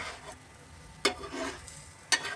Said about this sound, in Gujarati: થોડું તેલ નાખીને ફ્રાય કરીશું એક સાઈડે.